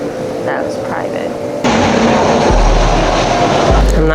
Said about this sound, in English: that looked like another private jet